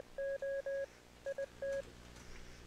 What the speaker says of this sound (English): this Morse code. It's so fire.